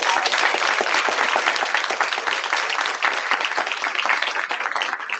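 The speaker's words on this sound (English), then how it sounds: "let's just give all of these schools one more round of applause" Audience applause for schools at a state board meeting, a steady, dense round of clapping from a large crowd, loud and continuous throughout with no talk over it.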